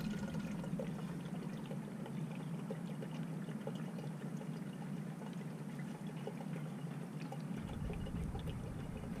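Brake fluid pours from a bottle in a steady, close liquid stream during a brake bleed on a 2015+ Subaru WRX, with a continuous low trickle and no talk.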